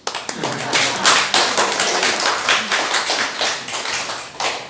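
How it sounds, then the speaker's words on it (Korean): Congregation clapping during a church sermon, with crisp, distinct individual claps at first that gather into a lively, uneven patter of many hands, fairly close and loud. "박수 한번 칩시다."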